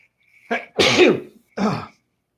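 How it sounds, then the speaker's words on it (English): A single close sneeze, a sharp intake followed by a loud burst and a brief trailing sound, with nothing else around it. "I'm gonna sneeze."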